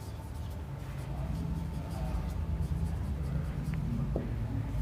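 Pen or marker handwriting as a geometry definition is written out, a soft, steady scratching of strokes under constant background hum, close and faint, with no speech.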